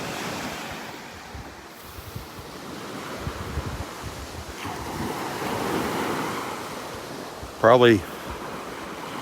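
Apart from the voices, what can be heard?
ocean waves and surf at Vanderbilt Beach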